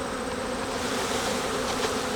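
Honeybees buzz steadily and close up as they are shaken from a hive frame and scooped for a varroa mite count, a dense continuous drone with no talk.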